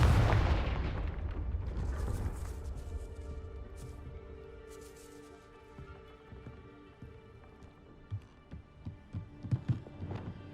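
A Confringo fire spell in Hogwarts Legacy sets off a heavy, booming blast that rumbles and fades. Later come a series of smaller sharp crackling hits.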